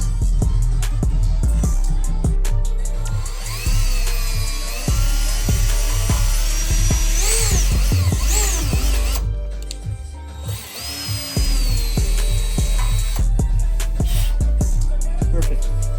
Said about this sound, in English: Alright, we got the holes drilled.